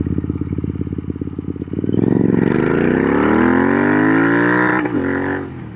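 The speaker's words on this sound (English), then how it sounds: "Ah, that was a rev limiter again." A Royal Enfield Interceptor 650 with S&S pipes idles with a lumpy beat, then revs hard and holds loud and close against the rev limiter before dropping back off.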